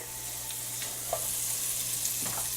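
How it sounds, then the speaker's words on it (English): Butter melts in a pan for a pepper jack mac and cheese sauce, giving a steady low sizzle with faint scattered pops and a soft stir, no talking. "melt your 3 tablespoons of butter"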